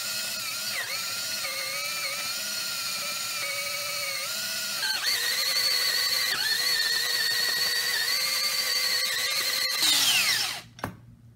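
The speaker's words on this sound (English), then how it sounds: "when I start drilling it, the wood will be a lot softer and a lot easier to drill out." A power drill bores steadily into a water-soaked wooden ball for a medieval mace, its whine holding close and loud with small pitch dips, then cutting off abruptly near the end.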